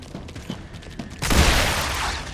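Gunfire in the survival game Star Rupture: a run of clicky mechanical shots and handling noises, then a sudden loud, sustained burst of rapid firing, close and dense, with no talk.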